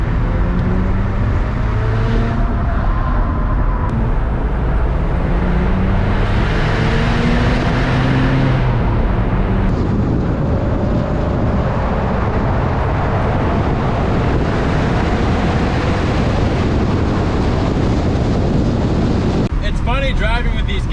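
A Mazda RX-7 with a rotary engine pulls in first gear in a group cruise, a loud buzzing engine note with rising and falling revs under heavy wind rush, while a person talks over it.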